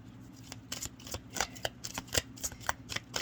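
Handmade oracle cards are shuffled close by, a quiet series of crisp riffling flicks and taps in an irregular rhythm, with no voices.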